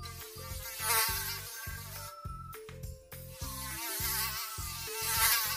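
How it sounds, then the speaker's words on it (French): A mosquito buzzes around a bear trying to sleep in an animated children's story, a steady high whine that keeps circling over a rhythmic musical backing, with no voices. "Mais le moustique est plus rapide et continue de voler autour de lui."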